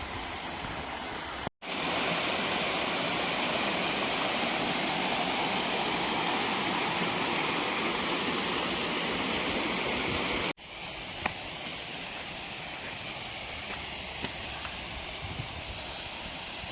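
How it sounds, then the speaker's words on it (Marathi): A small waterfall at a fishing spot gives a constant loud broadband rush, broken by two brief dropouts, with no voices over it. "मित्रांनो, पहा इकडे छोटासा धबधबा आहे"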